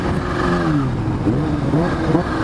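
A Kawasaki Ninja H2 motorcycle accelerates under partial throttle, its engine tone rising and shifting in a steady, close drone with wind noise and no talk.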